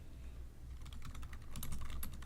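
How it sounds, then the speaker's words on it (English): Fingers typing on a computer keyboard, at first a faint soft patter, then a quick run of close clicky keystrokes that grows louder toward the end, with no voices. "I'm just typing into Twitter"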